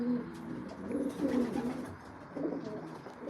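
Pigeons coo softly in a loft, several birds overlapping in low, rolling, throaty calls that swell and fade at close range in a quiet room.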